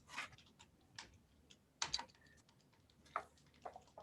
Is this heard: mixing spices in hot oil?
no